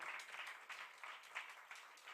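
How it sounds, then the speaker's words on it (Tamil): Steady applause from an audience in a hall at a birthday celebration for Sri Sathya Sai, continuous clapping heard alone and fairly soft. "எல்லாருக்கும் பெரிய ஒரு கைத்தட்டல்"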